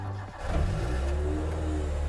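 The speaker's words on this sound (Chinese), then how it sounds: "接下来带大家感受一下这台 A186 的声浪啊" Toyota AE86 with its 4A-GE engine, fitted with a roll cage for track use, revving up: a quick dip then a sharp rise into a sustained high-revving engine note with steady harmonics, close and loud.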